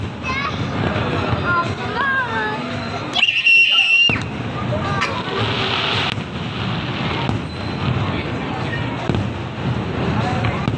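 The sample fireworks display at Thrissur Pooram 2022 plays out as dense, continuous crackling and booming from many shells. A crowd murmurs and shouts under the blasts, and a brief lull is cut by a whistle-like streak.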